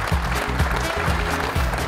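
Studio audience applause on a Georgian television comedy show, a brief dense burst of clapping from a crowd, steady and fairly loud throughout.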